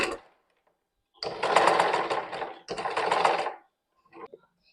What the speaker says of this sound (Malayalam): ഞാൻ ഇത് കറക്റ്റ് ഒന്ന് വെച്ച് സെൻട്രൽ ഭാഗത്തൊന്ന് സ്റ്റിച്ച് ചെയ്ത് കൊടുക്കുന്നുണ്ട്.